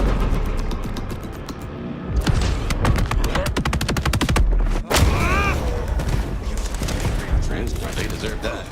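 Gunfire in the video game Vampire: The Masquerade – Bloodlines 2, rapid bursts of automatic shots in quick succession with a sharp boom midway, mixed with game effects and voices.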